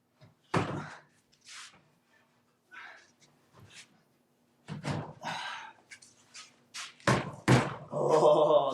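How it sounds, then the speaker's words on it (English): The door on a homemade chameleon cage hood is opened, giving several sharp thumps and knocks, with a scraping rattle toward the end. Between the impacts there are quiet gaps. "Let's put it on and open the door."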